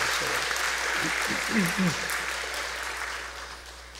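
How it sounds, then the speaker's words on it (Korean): Congregation clapping in a church during a Sunday service, a steady wash of applause with a voice speaking briefly over it. "건강을 위해 박수 한번 쳐주세요."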